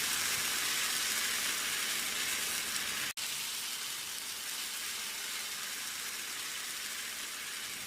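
Vegetable adai batter sizzling in oil on a hot dosa tawa, a loud, even hiss filling the whole stretch, broken once midway by a brief sharp click, no talking.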